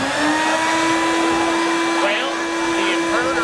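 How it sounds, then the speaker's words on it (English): A vacuum cleaner runs off a power inverter, rigged as a reverse-vacuum supercharger on a Ford F250, giving a steady, loud, close motor whine with a constant hum that never lets up. "the inverter seems to be working just fine and running the vacuum cleaner"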